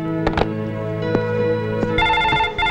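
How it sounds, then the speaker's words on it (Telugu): A telephone rings with repeated tonal bursts over a steady hum, punctuated by a few sharp clicks; the ringing grows brighter near the end. "ప్రొద్దున్నుంచి ఫోన్ మోగి మోగి విసుగు తెప్పిస్తుంది"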